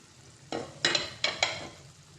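Potato and egg curry being stirred in a pot, boiled eggs broken into the gravy: four short scraping, squelching strokes after a quiet start, close and moderately loud, with no talking.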